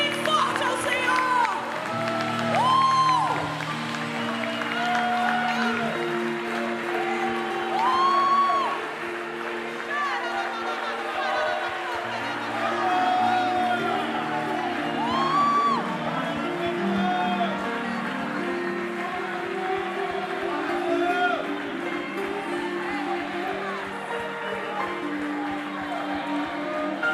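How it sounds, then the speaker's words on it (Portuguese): A church congregation applauds and cheers at length, with steady massed clapping, scattered whoops and voices mixed through a crowded room. "Dá um aplauso bem forte, mas bem forte ao Senhor."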